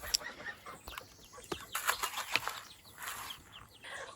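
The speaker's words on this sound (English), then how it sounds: "inside here, we have our odd varieties of laying chicks, which are still pretty little, so they're still locked in the enclosure" Young laying chicks in an enclosure on a homestead, with soft clucks and high peeps scattered over an outdoor background, plus a few rustles and faint wing flaps.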